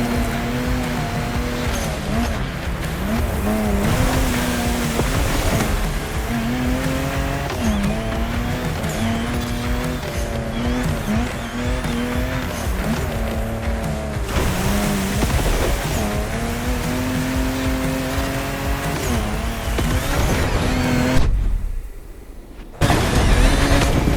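An old Land Rover Defender off-roading on a rocky beach in The Crew Motorfest, engine droning and shifting pitch steadily with tyre noise and surf behind, briefly dropping out near the end before resuming.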